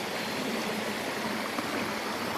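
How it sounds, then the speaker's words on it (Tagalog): Steady, full rush of river water flowing, heard from the riverbank, constant and close, with no other sounds standing out. "medyo maingay kasi nandito tayo ngayon sa tabing ilog"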